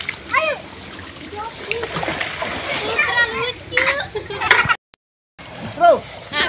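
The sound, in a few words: people splashing while swimming in a spring-fed pool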